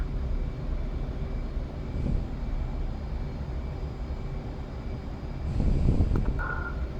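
Steady broad jet engine roar of an F/A-18C Hornet on afterburner takeoff in the DCS flight simulator, holding loud throughout and swelling near the end, with no talking over it.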